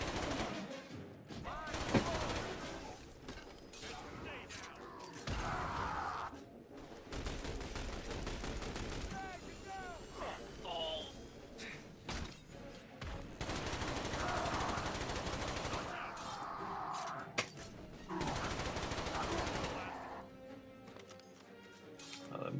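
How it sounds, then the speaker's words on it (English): Bursts of rapid machine pistol fire in a shooter video game, clustered volleys of automatic shots amid a busy battle mix, with shouted voices from players heard throughout. "That machine pistol's pretty damn good."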